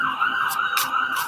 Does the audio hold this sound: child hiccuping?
no